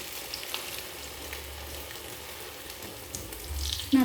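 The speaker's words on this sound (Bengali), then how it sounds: "আবার একটা কচুরি ছেড়ে দিলাম তেলে।" Egg kochuri frying in hot oil, a steady low sizzle and bubbling that runs throughout at moderate volume, with a few small clinks and splashes and no talking.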